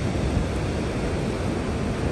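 Stormy sea at Gelendzhik after a storm, with a continuous dense roar of surf crashing nearby, loud and unbroken throughout with no voices.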